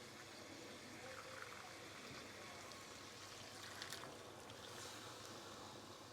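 Water pours steadily into a pot of browned chicken pieces for a one-pot chicken dopiaza, a continuous close trickling rush lasting several seconds with no talking.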